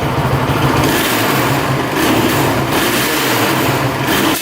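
Honda TRX450 ATV engine held at high revs, a steady, dense, buzzing roar up close that swells slightly a couple of times without dropping to idle.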